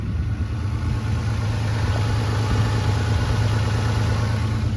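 A car engine idles steadily on a desert roadside in Argentina, its exhaust sputtering in a rough, continuous low rumble that stays close and loud throughout.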